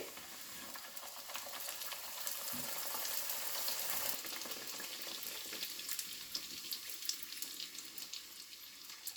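Kachori deep-frying in hot oil for halwai-style raj kachori: a steady, loud broadband sizzle and bubbling hiss runs unbroken through the whole stretch, with no talking.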